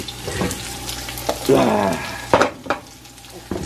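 Potatoes and onions fry in a pan for a Filipino adobo, a loud sizzling burst as the onions go in, with brief clatter and stirring knocks around it and no clear talk.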